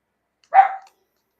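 A puppy gives a single short, sharp bark, close and clear, in otherwise silent surroundings.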